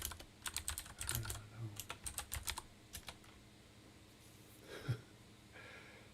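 Bursts of typing on a computer keyboard at a game development desk, a rapid run of clicking keystrokes through the first half, then a quiet stretch with a soft breath or snort near the end.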